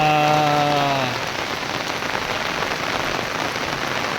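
Heavy rain pouring onto a main road, a dense, loud, even hiss of drops on the surface, with a brief tonal hum fading out in the first second.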